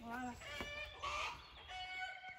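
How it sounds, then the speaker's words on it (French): Roosters calling to hens in a French backyard henhouse, a few clucking and crowing calls close by, with people talking over them. "Ah, les coqs les appellent."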